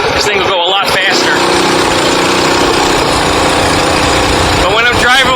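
A Coleman KT196 go kart engine runs loud and steady while driving, a continuous buzzing drone that dominates the recording, with a person speaking over it.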